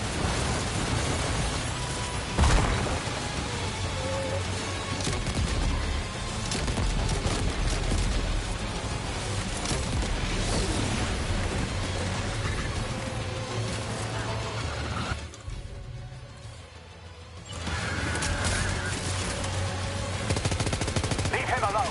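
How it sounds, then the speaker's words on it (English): Heavy automatic gunfire rattles in the Death Stranding 2 video game. It is loud and continuous for most of the stretch, breaks for a brief lull, then resumes. "Opening fire now."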